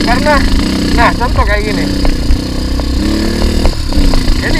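A Bajaj Scorpio motorcycle engine idles and is lightly revved, a steady low rumble with small rises running continuously beneath someone talking close by.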